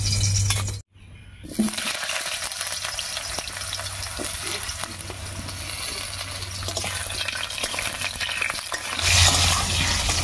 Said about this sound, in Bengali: তেল গরম হয়ে গেছে, প্রথমে আলুগুলো দেব